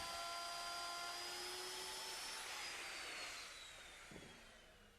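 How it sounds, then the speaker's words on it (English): A router fitted with a 1-inch roundover bit shapes the edge of a wooden stair tread, giving a loud, steady high-pitched whine that winds down toward the end, with no talking. "To do this, I'm using a 1-inch diameter roundover bit."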